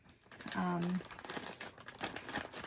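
A plastic trash bag, like a Walmart shopping bag, crinkles and rustles close by in irregular bursts, with a brief tonal squeak early on and talk-like sounds mixed in.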